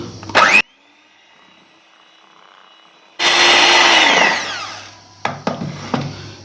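An electric mixer whirs loudly through cake batter for a stovetop tea cake, in two separate bursts split by a quiet stretch, ending in a few short clattering knocks.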